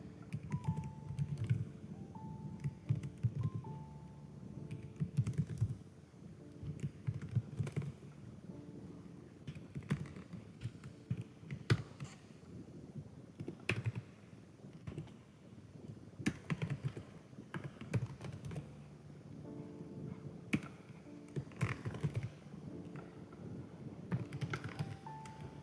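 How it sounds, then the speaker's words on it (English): A URL is typed on a computer keyboard, with quiet, close key clicks in irregular bursts and brief pauses over a soft background hum, without speech. "I'll type in the URL."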